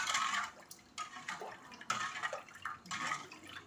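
Ice water pours into thick watermelon juice in a series of splashing, gurgling pours with short pauses between them, close and moderately loud with no talking.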